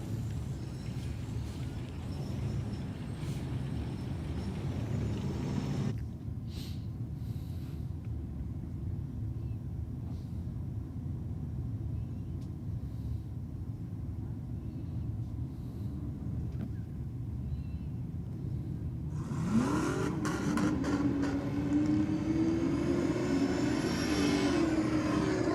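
A supercharged V8 and a nitrous-assisted V8 drag car racing at Sydney Dragway, a distant rumbling roar that quiets briefly and then swells into louder, rising engine noise near the end.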